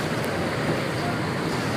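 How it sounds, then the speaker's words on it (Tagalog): Floodwater waves surge through a flooded street in Manila during heavy rain, a steady, dense wash of churning water and wind rushing past the microphone. "Ang lakas ng alon."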